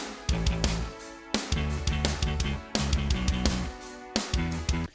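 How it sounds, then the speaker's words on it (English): A cover of a song's verse plays with a sustained synth pad over a rhythm section, punchy drum hits repeating in a steady pattern with short gaps between bars and no voices. "The verse really sounds like this with the synth pad."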